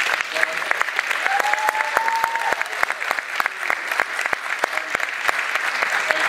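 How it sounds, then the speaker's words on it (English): An audience at a public meeting about saving Southall Town Hall and public services applauds, a dense, steady burst of clapping from many hands that holds fairly loud throughout, with brief voices mixed in. "Will you please join me in applauding the contributions of Paul, Suresh, and Oliver"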